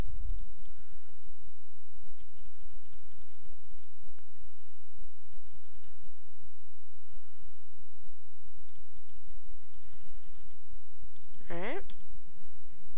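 Computer keyboard keys tapped steadily while typing an email message, soft irregular clicks running under a constant background hum with no one talking.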